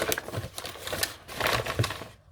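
Packaging paper being torn by hand for a grunge junk journal, a quick series of close crackling rips and rustles in short bursts, with no voices.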